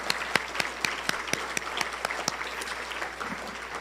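Steady applause from an audience at a recovery charity awards event, many hands clapping with sharper individual claps standing out, continuous throughout.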